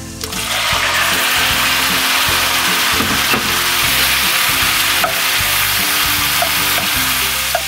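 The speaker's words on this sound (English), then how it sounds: "So you see the butter starting to bubble. Let's do our shrimp now." Shrimp fry in bubbling butter in a pan for a Tuscan creamy shrimp pasta, a loud, continuous close sizzle with occasional stirring clatter and pops.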